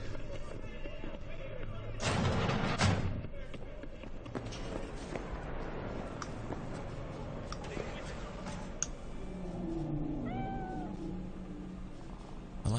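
A cat meows several times in the video game Cyberpunk 2077, with a loud burst near the start and rising meows later, set against quiet ambient game sound and faint background voices.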